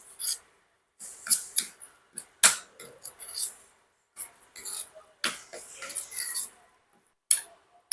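Poppy seed fritter batter with rice flour, salt and grated coconut is stirred in a bowl, giving soft, irregular scraping and tapping bursts separated by brief pauses, close up and fairly quiet, with no talking.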